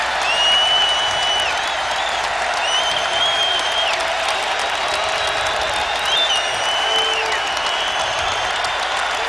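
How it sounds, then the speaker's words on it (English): A college basketball arena crowd roars and applauds steadily during a Virginia versus Louisville game, a broad, sustained wash of cheering with faint whistle-like tones on top and no clear commentary over it. "the crowd serenades him"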